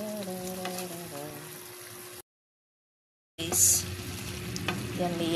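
Mixed vegetables sauté with sardines in a pan, a soft steady sizzle with stirring scrapes and low hum, interrupted by a brief silent gap before the frying resumes close by.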